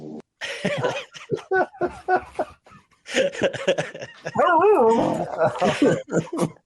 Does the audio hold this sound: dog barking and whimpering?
yes